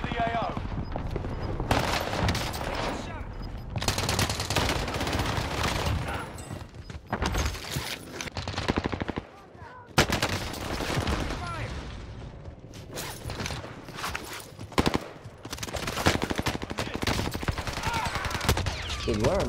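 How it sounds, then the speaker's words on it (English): Gunfire fills a Call of Duty Warzone match on Rebirth Island: dense, near-continuous bursts and rattling shots with mechanical clatter, loud throughout, with a brief lull midway. "Dude, where am I getting shot at from?"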